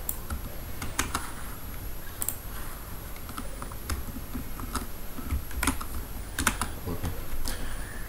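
Steady typing of Python code on a computer keyboard, a run of quick close clicks with sharper accented keystrokes here and there, alone over faint room noise.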